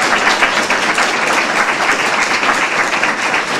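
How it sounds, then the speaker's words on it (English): Audience applause at a state House district debate, a dense steady round of clapping filling the room, loud and close. "Let's have a round of applause."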